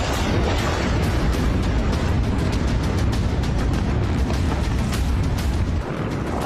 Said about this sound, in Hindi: अमेरिका के बारूदी प्रहार से शिया देश दहक रहा है